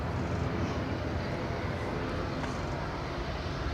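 Qatar Airways jet departing from runway 05 left at Manchester Airport, a loud, steady broadband engine roar that holds evenly throughout with no talk.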